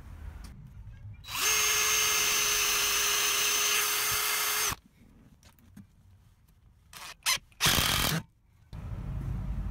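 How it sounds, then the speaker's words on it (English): A power drill runs in one sustained steady whine for about three seconds while fixing timber studs in a Mercedes Sprinter campervan furniture build, followed by quieter scraping handling noises and two short bursts. "we'll square that and then drill it and screw it"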